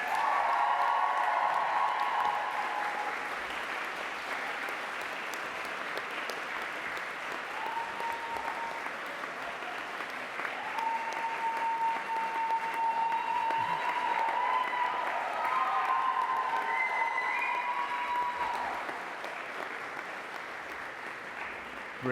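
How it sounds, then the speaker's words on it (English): Graduation ceremony audience at Greenwich giving a long, sustained round of applause, a dense wash of many hands clapping that fills the hall, with faint cheers and tones rising through it. "give them the most amazing round of applause that you can"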